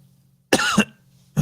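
A single sharp, close cough on a live radio traffic show, followed moments later by the start of another.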